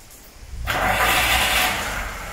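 A VAZ 2107 car's engine starts by remote start with nobody inside, the starter cranking into a steady, loud engine roar that holds close and alone.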